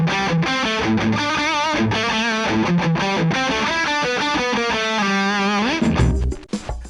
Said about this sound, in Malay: ni dia panggil distortion or overdrive lah